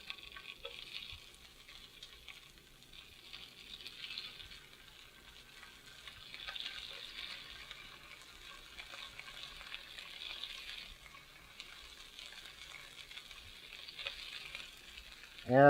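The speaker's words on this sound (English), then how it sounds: "And now we're just going to sear our little rice cakes." Jasmine rice cakes sear in oil in a hot pan, giving a soft, continuous sizzle and light crackle that stays fairly quiet and steady, with a faint clatter at the very end.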